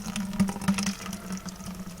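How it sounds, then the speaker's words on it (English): Liquid slowly poured off apple seeds settled in a bucket, a gentle trickling and sloshing with small gurgling surges, close and moderately quiet, with no talk. "pouring off the glop"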